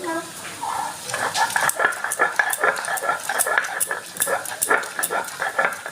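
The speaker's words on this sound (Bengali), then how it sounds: "বাঁধাকপিটা আমি এবার একটু শিলে বেটে দেব" Cabbage is ground by hand on a flat stone grinding slab, producing quick, rhythmic scraping strokes that repeat steadily and sound close and fairly loud.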